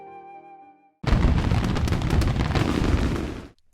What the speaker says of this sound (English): The fireworks are beautiful.